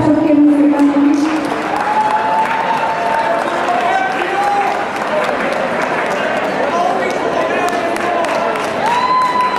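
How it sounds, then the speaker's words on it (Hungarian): Audience applause and cheering at an anime Christmas convention's cosplay award ceremony in a hall, a dense, loud wash of clapping and crowd noise throughout, with a voice and a few shouts over the top. "Nagy tapsot kérünk szépen is!"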